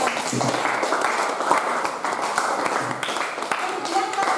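A classroom of students applauding, with quick scattered claps forming a short burst of applause, mixed with voices speaking throughout.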